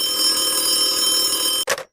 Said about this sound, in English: Stop ringing.